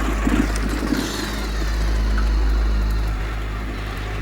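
A motorbike engine faltering at night on the way home, its low idle chugging unevenly and sagging rather than pulling steadily, close by and fairly loud, with no voices.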